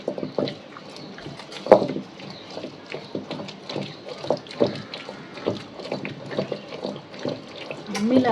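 Raw fish for a Hogenakkal-style fish curry is scrubbed and rinsed under running tap water, giving a steady splashing flow broken by irregular sloshes and knocks as the fish is handled, close and moderately loud.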